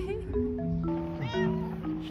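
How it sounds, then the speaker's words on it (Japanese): A farm cat near a cowshed gives a few short, clear meows at close range while people talk softly alongside. "牧場猫。"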